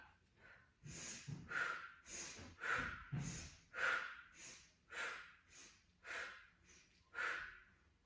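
Breath sounds come close and soft during an intermediate Pilates exercise, about ten rhythmic inhale and exhale pulses in steady succession with no talking.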